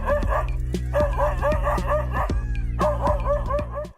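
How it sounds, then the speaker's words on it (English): A dog in a forest lets out a rapid barrage of loud, close barks and yips, sharp repeated bursts with brief pauses, fighting off a leopard. "it unleashes a barrage of loud barks"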